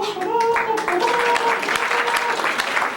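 Audience applause at a small-town variety show, a sustained burst of dense clapping from a crowd that fills the room, with a voice speaking faintly underneath.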